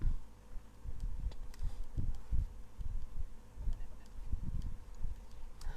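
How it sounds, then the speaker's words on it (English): Bees or flies buzz in the Phantasy Star 2 romhack video game, a faint, fluttering drone with uneven pulses running under other quiet game sounds for several seconds. "Flies or bees or whatever, they originally just have 10 HP."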